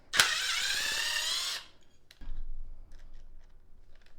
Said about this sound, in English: So like we'll hit this 1/4 inch one, just run it in.